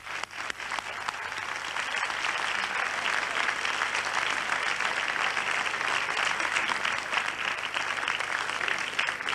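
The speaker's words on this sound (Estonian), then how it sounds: "Aplaus veel." Sustained audience applause after a song performance at a Eurovision national selection contest in Estonia, steady dense clapping filling the hall for several seconds without a break.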